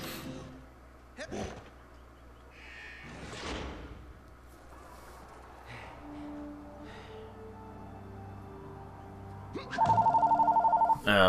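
An old-fashioned telephone bell rings in Rayman Raving Rabbids on the Wii, a rapid loud trill bursting in near the end after scattered thumps, slams and game noises.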